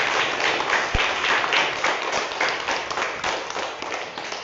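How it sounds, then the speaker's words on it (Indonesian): A classroom of children claps their hands together in a steady, fairly loud burst of applause that lasts several seconds, with a faint voice in the background. "tepuk tangan dulu buat kita semua."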